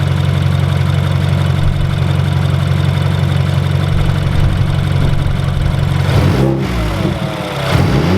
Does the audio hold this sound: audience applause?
no